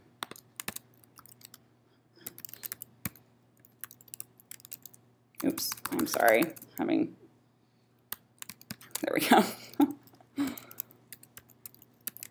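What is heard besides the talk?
typing on a computer keyboard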